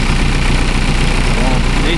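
A 2008 Mercruiser 3.0 liter marine engine running steadily at idle, a loud continuous low rumble with constant vibration throughout; the engine is being warmed up before ignition timing is set.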